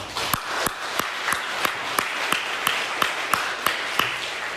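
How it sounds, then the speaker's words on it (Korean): A church congregation welcomes a visiting missionary from Nepal with rhythmic applause, strong unified claps landing at a steady beat of roughly three per second over a softer bed of scattered clapping, close and lively. "우리 박수로 환영하도록 하겠습니다"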